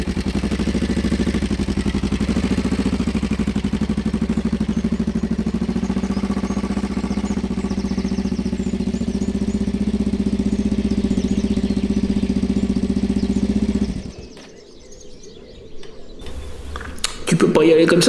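A motorcycle engine idles steadily and loudly while the bike is wheeled out near a tent, a constant low drone that cuts off abruptly near the end, leaving quiet handling noises before a brief loud burst.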